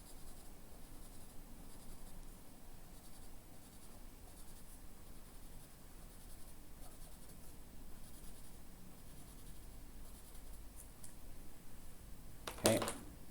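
Pen or pencil drawing a fraction model by hand on paper, a faint continuous scratching and rubbing across the whole stretch, with one brief sharper tap near the end and no talk.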